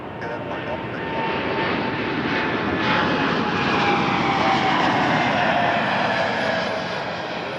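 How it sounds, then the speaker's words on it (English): Jet engines of a Boeing 787 Dreamliner roar loudly at Toronto Pearson Airport, a broad sustained rumble that swells in the middle and stays strong throughout. "Our first Dreamliner, I think, of the stream."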